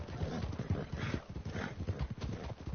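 A horse in Red Dead Redemption II clops along in a steady, brisk hoofbeat rhythm, close and continuous.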